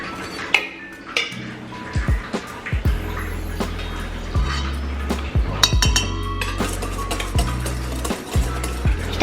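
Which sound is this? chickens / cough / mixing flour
mixing flour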